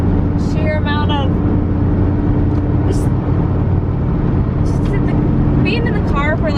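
Steady low road rumble and engine drone fill the inside of a moving car on a cross-country drive, continuous and fairly loud, with voices talking faintly over it at times.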